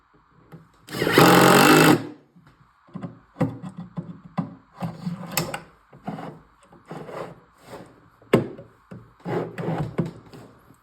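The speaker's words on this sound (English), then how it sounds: "So now I can fully extend the slide and I can pre-drill the rest of the holes." A drill pre-drills screw holes for drawer slides in a wooden cabinet, starting with one long whirring burst followed by a string of short, uneven bursts and scrapes, fairly close and with no talk.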